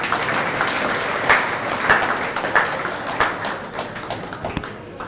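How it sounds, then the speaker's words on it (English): Audience at a fundraising banquet for a bushfire appeal, held for Serbian Statehood Day 2021, applauds steadily throughout, a dense sustained patter of many hands clapping with a few sharper claps standing out, no talking over it. "So we should applaud and welcome Mr. Alex Glumats."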